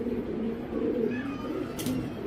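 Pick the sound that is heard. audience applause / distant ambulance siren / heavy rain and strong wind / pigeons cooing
pigeons cooing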